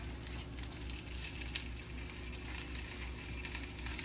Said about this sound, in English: we just sauteing it in butter, getting a little rebrowning it a little bit on each side